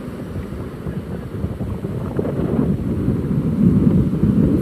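Ocean surf at Laomei Green Reef, a steady rushing wash of waves that builds slightly louder toward the end, mixed with gusty wind buffeting the microphone and no voices.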